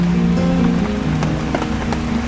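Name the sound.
rain falling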